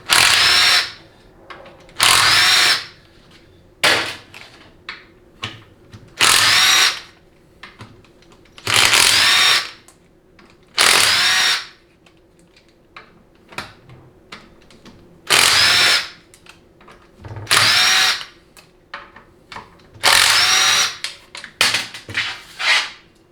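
Power tool spinning off bolts from a 4L80E transmission pan, about a dozen sharp separate bursts spaced a second or two apart, close and loud with quiet gaps between.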